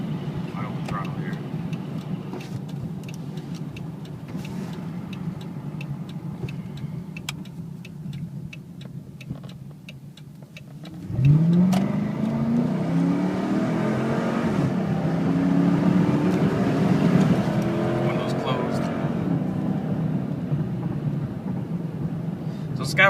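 A 2013 Dodge Charger R/T with a muffler delete idles with a steady rumble, then goes to wide open throttle and its engine note climbs loud and raspy through the gears, heard from inside the car.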